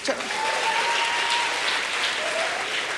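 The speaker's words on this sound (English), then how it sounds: "Let's give him a clap now." A crowd at a medical faculty pledge ceremony claps steadily and warmly throughout, a dense patter of applause filling the room.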